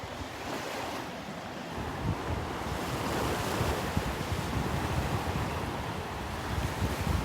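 Ocean waves and surf on a beach in North Naples, Florida, at Delnor-Wiggins Pass State Park, a continuous broad wash of breaking water mixed with wind noise on the microphone, steady throughout and with no voices.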